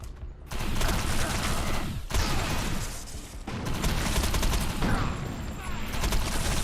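Weapon fire in the video game Defiance comes as dense, continuous bursts of rapid shots, loud and heavy, with brief breaks between volleys and mechanical clatter mixed in.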